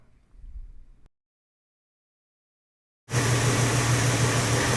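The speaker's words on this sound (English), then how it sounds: "I'm going to go to wide open throttle." A Lincoln LS engine opened to wide open throttle bursts into a loud, steady, close roar after a faint murmur and a moment of silence.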